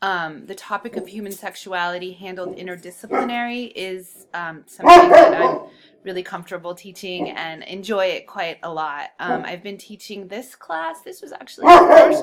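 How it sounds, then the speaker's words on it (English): A dog barks loudly in a home setting, with several sharp bursts breaking in repeatedly while someone speaks steadily throughout. "You're going to have to pardon the loud dog."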